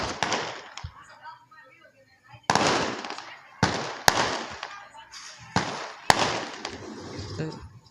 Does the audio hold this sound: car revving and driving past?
no